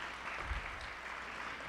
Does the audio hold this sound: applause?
yes